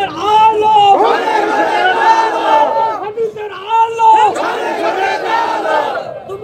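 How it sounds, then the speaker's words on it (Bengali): A large crowd at an Islamic sermon gathering shouts takbir in unison, with loud sustained chanted cries in two waves separated by a brief dip, the massed voices blending into a roaring chorus. "দু হাত তুলে ইমানের সাথে তাকবীর দিয়ে দেখান কারা কারা চাই"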